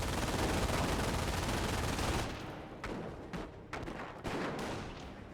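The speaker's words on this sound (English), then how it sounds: "MG-42 now on the field, pushes way forward, and the Jeep's gonna fire a nice little volley there" An MG-42 machine gun and a jeep's gun fire together in Company of Heroes: a dense, loud roar of continuous fire that cuts off into a few scattered, spaced bursts, with no voices heard.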